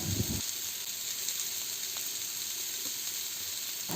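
Onion and grated carrot sautéing in a pan over moderate heat, a continuous close sizzle with a brief louder stir or clatter at the start.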